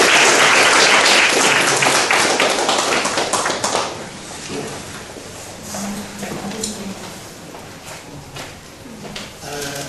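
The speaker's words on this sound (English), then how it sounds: "Let's welcome today's speaker with a big round of applause" An audience at a talk applauds to welcome the speaker, loud dense clapping at first that thins and fades over several seconds, with a voice and low murmur emerging beneath as it dies down.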